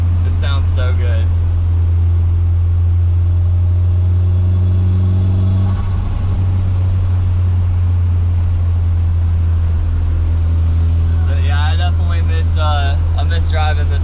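A Toyota Aristo's engine rumbles steadily and loud, close by, with a deep low drone throughout and a brief swell of revving midway, while people talk over it at the start and end.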